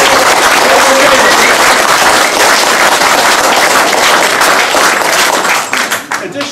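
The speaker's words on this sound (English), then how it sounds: "let's give another round of applause for this" Loud, dense applause fills a hall at a 50th reunion of a British army junior leaders battalion, many hands clapping steadily before thinning out and fading near the end.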